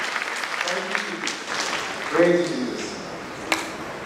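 A church congregation claps after a procession for Our Lady of Fatima in Chulne; the scattered applause sits under a man's speech and swells briefly partway through.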